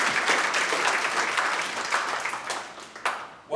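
A dense, loud round of applause fills the room for honorees at an NAACP scholarship gala, sustained clapping that tapers slightly near the end.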